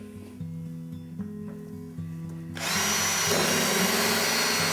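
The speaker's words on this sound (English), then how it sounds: "So let's go ahead and drill a hole there." A power drill whirs steadily, then bites into wood veneer and grows louder and harsher partway through, grinding continuously to the end.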